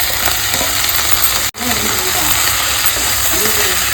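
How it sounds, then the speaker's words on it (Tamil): Onion, coriander and mint frying in a pan: a loud, continuous close sizzle and hiss with a brief dropout near the middle, and a voice talking faintly underneath. "நல்லா வதக்கிக்கணும்"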